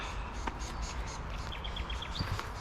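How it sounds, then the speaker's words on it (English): Grey shrike thrush whistling in spring wetland bushland, a short run of clear, quick high whistled notes partway through, faint against a hissy outdoor background of insects and rustle. "That's that whistle, that grey shrike thrush"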